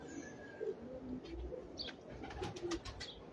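Pigeons cooing in a loft, soft low coos repeating close by, with faint chirps and a brief flutter of wings under a gentle background hum.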